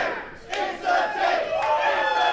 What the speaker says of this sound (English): the crowd now chanting, "It's a date tonight,"